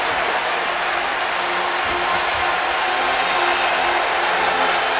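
A college football stadium crowd at a 2019 Clemson at North Carolina game roars steadily before a third down, a dense, unbroken wash of cheering and noise with no clear pauses.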